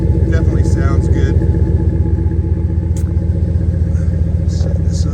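A 2010 Dodge Ram 1500 SLT 4x4 truck engine idles and revs gently with a deep, steady rumble close to the microphone, while a few faint clicks and light sounds come and go.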